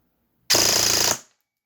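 Custom full-metal airsoft gun with a brushless motor firing full auto at almost 30 rounds per second, a single loud, rapid buzzing burst of about two-thirds of a second with a short tail.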